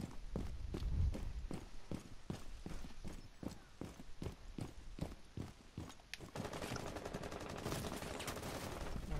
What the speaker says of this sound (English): Someone's shooting the window.